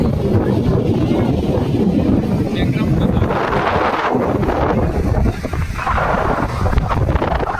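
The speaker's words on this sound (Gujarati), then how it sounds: "જોરદાર મોજા આવી રહ્યા છે. તમે જોઈ શકો છો કે કેટલા વિશાળ મોજા છે." Strong sea waves and cold wind at Tithal beach in Valsad, Gujarat: a steady, loud broadband roar of wind buffeting the microphone blends with surging surf throughout, with no pause.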